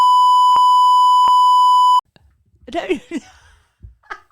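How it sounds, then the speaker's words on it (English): A loud, steady high-pitched censor beep runs continuously for about two seconds, then cuts off abruptly into laughter and talking. "we'll just beep that out again"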